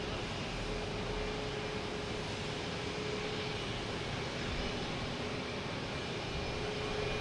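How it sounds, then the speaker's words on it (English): A JetBlue Airbus A321neo inbound from Madrid lands at Boston Logan with a low, fairly quiet jet rumble that stays even, a thin steady tone running through it and no voices. "next coming in is a JetBlue. Coming in from Madrid, an A321neo"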